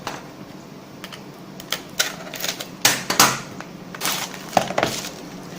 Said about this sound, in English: So let us unbox it.